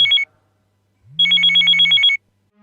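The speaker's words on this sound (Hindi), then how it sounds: "अभी अंधेरे में फोन बजने लगा।" A mobile phone rings in a quiet, dark room, with a short electronic burst and then a longer run of rapid warbling tones over a low hum, clear and close, with no talking.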